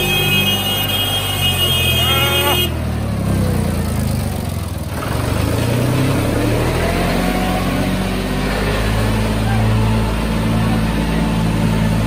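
A John Deere 5055E four-wheel-drive tractor approaches across farmland, its engine drone rising steadily and growing louder and nearer, after a brief higher whine in the opening seconds.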